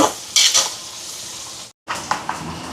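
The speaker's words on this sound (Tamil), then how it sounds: "பச்சை மிளகாய், வெங்காயம். இதெல்லாம் வதங்கிறது." Green chillies and onion sauté in a pan with a close, steady sizzle, broken by several scraping stirs and a short gap in the sound.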